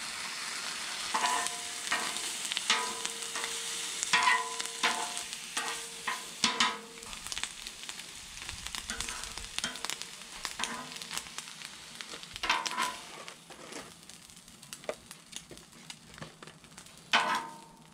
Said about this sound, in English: Heat up these cold cuts of ham that I got.